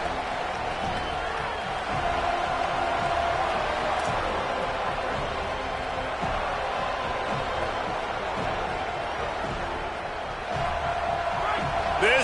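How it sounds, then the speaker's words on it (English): A football stadium crowd makes noise before a 4th down play, a continuous, even roar of many distant voices that holds steady throughout, with faint talk underneath. "This crowd bringing serious noise on this huge 4th down play."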